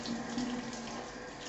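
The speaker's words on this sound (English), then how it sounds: "Cold water." Cold water runs steadily from a shower, a continuous close hiss of flowing, splashing water with a faint low tonal hum and no voices.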